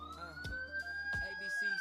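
A giveaway siren sound effect plays during a live futures trading stream, a steady rising tone running through the whole short clip, interrupted by a few brief sharp knocks.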